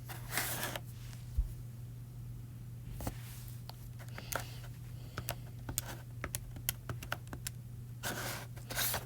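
Keys tapped on a calculator while working out an early computational method, soft scattered clicks, close and faint, coming in irregular bursts over a steady low hum, with no talk.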